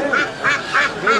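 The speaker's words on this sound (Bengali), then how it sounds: "দর্শক দেখেন এই বেলজিয়াম হাঁস" Belgian ducks at a busy village livestock market quack four times in an even rhythm, loud and close, with no talk over them.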